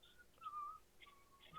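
Someone whistles softly nearby in a quiet room, a few short wavering notes with gaps between them, faint and alone with no talk.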